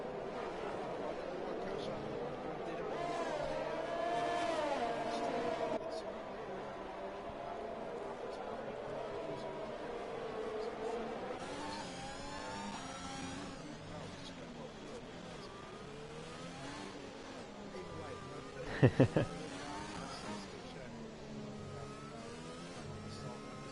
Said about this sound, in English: We're back under green flag racing as Sumo joins us